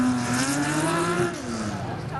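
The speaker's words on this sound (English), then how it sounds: "Beautiful roar from that flat 6 boxer engine tucked in behind the rear wheels." A Porsche rally car's flat-six boxer engine roars hard through a night forest stage at the Coffs Coast classic rally, a loud sustained engine note that shifts pitch as it passes, with a commentator talking over it.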